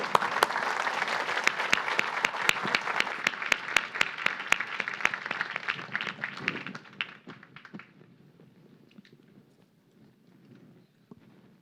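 After a tech summit panel, the audience gives a round of applause, a bright, busy patter of many hands that stays even for several seconds, then fades into scattered claps and quiet room noise.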